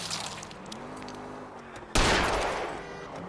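Gunfire in the video game L.A. Noire bursts in loudly partway through, a dense sustained volley that trails off slowly, after a stretch of quieter engine-like game ambience.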